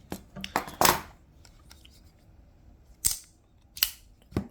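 A ZT folding knife with a big, heavy blade being swung open and shut, making several sharp metallic clicks and snaps: a cluster near the start, then isolated crisp snaps spaced out later, all close and without talk.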